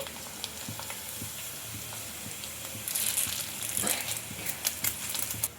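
Food frying in hot oil on full heat in a home kitchen, with a steady crackling sizzle that grows louder and busier midway, scattered sharp pops over a continuous hiss.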